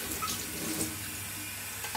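Warm water running from a kitchen tap in a steady, even hiss and splash, close and fairly soft, with no voices.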